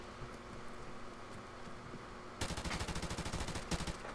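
Rapid automatic gunfire in Call of Duty: Modern Warfare Remastered, with an AK-74 in play, bursts out over a steady game background hum and continues as a fast, dense rattle of shots, fairly faint overall.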